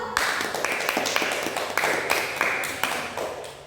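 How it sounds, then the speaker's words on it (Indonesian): A classroom audience of students claps for a group presentation, the sound coming in a string of sharp, uneven bursts rather than a smooth roar, fairly close and with no talking over it. "Tepuk tangan dulu untuk presentasi kelompok 1."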